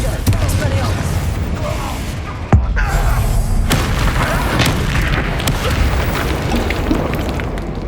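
A Confringo blasting spell exploding in Hogwarts Legacy, one sharp boom standing out from dense, continuous loud combat noise, with a voice calling out spells during the fight.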